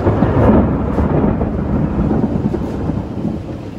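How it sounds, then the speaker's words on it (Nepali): Thunder rumbles loudly and steadily through a monsoon storm, with heavy rain hissing alongside and no voices. "खतरा कड्किन्छ"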